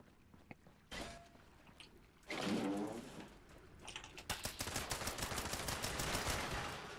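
Rapid bursts of gunfire in the video game Fallout 76, starting after a quiet second and coming as a dense, fast, near run of shots that carries to the end without speech.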